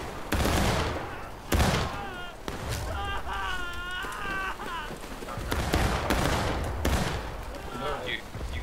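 Musket volleys crack out in the War of Rights video game, a Civil War infantry battle. Several loud, sharp volleys come in rolling bursts with crackling echoes, while voices talk over the gunfire.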